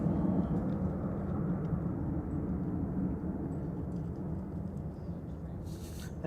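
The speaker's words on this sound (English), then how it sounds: "coming in from Doha, is Flight 27 for Qatar Airways, A7 AOA, A350 1000" Qatar Airways Airbus A350-1000 arriving at Manchester Airport, a steady broad low rumble of jet engines heard at a distance, holding fairly constant throughout with no talk.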